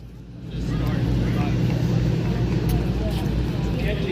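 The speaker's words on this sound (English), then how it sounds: "That sweet song of combustion as sung by the crackle of the engine." A Pratt & Whitney R-1340 radial aircraft engine at an Ocean City, New Jersey airshow drones steadily with a rough, crackling low rumble, loud and continuous after a brief quieter start.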